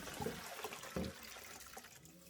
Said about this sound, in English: Discard the water.